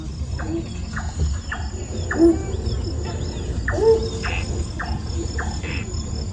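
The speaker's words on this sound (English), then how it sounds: "A nightjar song," A nightjar sings a series of short, evenly spaced notes against a steady background of chirping crickets and insects at night at Singapore's Night Safari.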